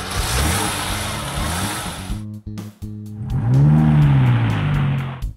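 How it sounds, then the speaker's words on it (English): A compact car engine runs close and steady, then cuts out briefly and returns, with a rising, revving hum as it picks up speed. "Compact car."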